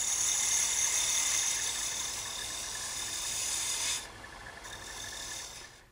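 Tough, coarse, chippy wood being turned on a lathe while an awl handle is rounded over: a continuous close rasping hiss of the cutting tool over the spinning motor hum, which briefly eases then resumes.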